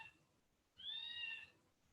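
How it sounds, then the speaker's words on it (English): Kittens give one drawn-out, high, rising-and-falling meow, moderately close but quiet, with near silence before and after it. "these kittens will not stop crying"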